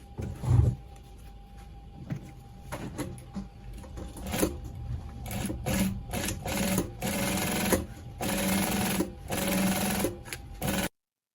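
A sewing machine stitches fabric for a padded pleated turban, its motor running in a steady close whir with short pauses and restarts across the stretch.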